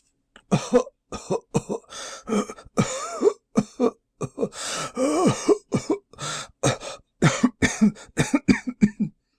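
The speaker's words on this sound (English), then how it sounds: "How long have you had that cough?" A long run of harsh, repeated coughs in rapid bursts, close and loud, with short gasping pauses between fits; sounds like a voice acting out the coughing.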